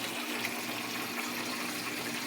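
Water pours or gushes steadily into a grotto-building site, a loud continuous rush with no talk over it.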